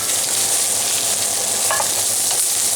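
Breakfast sausages frying in a Stargazer cast iron skillet with a little grease: a loud, even hiss of sizzling fat held close throughout, with a faint clink midway and no speech.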